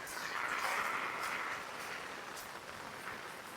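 Wind-driven rain from Cyclone Ditwah in Jaffna makes a steady broadband hiss and rush outdoors, loudest at the start and then holding even, with no voices.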